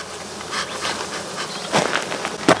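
Africanized honey bees buzz at the hive entrance as smoke is puffed in, a close swarm drone with individual bees flying past the microphone.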